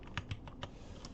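Keys tapped on a computer keyboard, including the Enter key, make a few faint, quick clicks in a quiet room with no speech.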